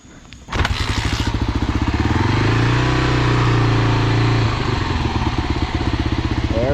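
A Kawasaki KLR motorcycle engine starts abruptly and then runs close by. It holds a steady, throbbing idle with a brief rise in revs before settling back down, and no one speaks.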